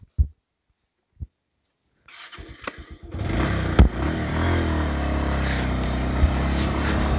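A 150cc double-disc motorcycle starts after a few clicks and brief cranking, then settles into a loud, close, steady engine run with a sharp rev blip, no talk.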